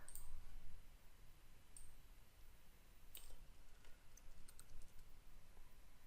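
Typing on a computer keyboard while coding HTML and CSS, faint scattered key clicks at an irregular pace in a quiet room.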